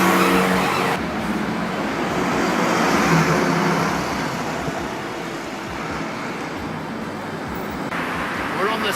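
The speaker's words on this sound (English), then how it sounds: "We're on the sort of narrower part of the high street now, where it is much more intense with traffic." Heavy, continuous traffic rumbles and hisses along the narrow, busy stretch of Gosforth High Street, with cars passing close by at a steady, loud level and faint voices in the mix.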